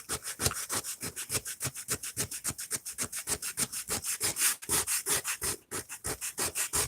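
A bathroom cabinet being hand sanded with sandpaper, rapid rhythmic back-and-forth rasping strokes, steady and close, roughly three strokes per second with a brief pause near the end.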